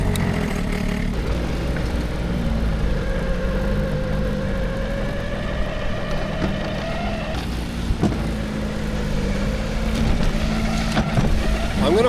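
Engine of a Comatic vehicle running steadily on a winter ride, a loud continuous drone with shifting pitch and occasional knocks over the whole stretch.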